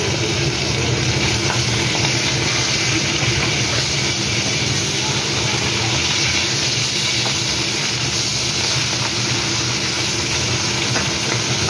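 Garlic, green chillies and ginger fry loudly in a hot pan with a dense, continuous sizzle and crackle, close and constant throughout with no talk.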